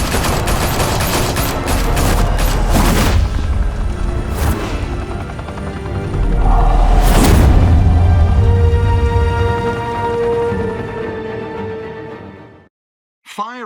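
Heavy gunfire erupts in a Batman Telltale shootout, with dense bursts of automatic fire and sharp blasts piling up loud and close. The barrage swells, then thins out and drops to near silence at the end.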